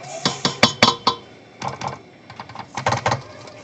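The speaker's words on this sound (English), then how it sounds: "So I'm just going to scrape down my bowl here." A spatula scraping down the sides of a mixing bowl of gingerbread cookie dough, a series of quick clattering scrapes and taps in two bursts, close and fairly loud, no talking.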